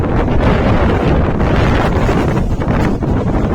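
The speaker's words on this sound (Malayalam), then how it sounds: "കാണാൻ ഫുള്ള് കോട, ഫുള്ള് കാറ്റ്, ഫുള്ള് മഴ, ഫുള്ള് മഞ്ഞ്" Strong wind on the misty, rainy peak of Narasimha Parvatha in Karnataka roars and buffets the microphone without a break, a loud, rumbling gusty blast with no voices.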